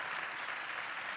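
A church congregation applauding together, a steady, even wash of clapping that fills the short moment without a break.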